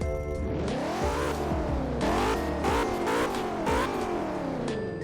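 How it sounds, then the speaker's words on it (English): A 2017 Saleen S7 LM in a Roblox racing game, its engine revving hard through repeated rising gear sweeps while the turbos spool and whistle, loud and close with no voices. "You can also hear the turbos kind of spool up."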